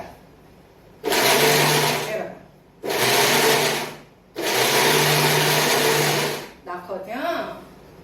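A mixer grinder blends raw mango chutney in three loud whirring bursts of about one to two seconds each, with short quiet gaps between them, followed by a brief softer rattle.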